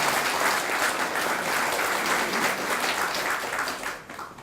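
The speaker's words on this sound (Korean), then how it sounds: "여러분 박수 한번" An audience of civil servants applauds officials from an agency honored as an outstanding institution during a provincial governor's visit; loud, dense, sustained clapping fills the room and then tapers off at the end.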